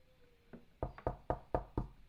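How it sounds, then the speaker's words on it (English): Five firm knocks on a door land in a quick, evenly spaced series, close and clear after a faint lighter tap, with no voices over them. "You hear a knock at your door, Gildarts."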